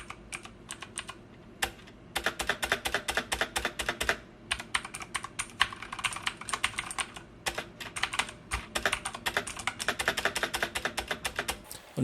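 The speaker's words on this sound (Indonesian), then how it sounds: "yang spasi di keyboard ini tuh kedengarannya agak cempreng dan malah kayak agak kendor gitu" A Digital Alliance Meca Master gaming keyboard is typed on steadily, a dense run of crisp clacking keystrokes close by, including its tinny, slightly loose-sounding spacebar, with a short pause near the start and no talking.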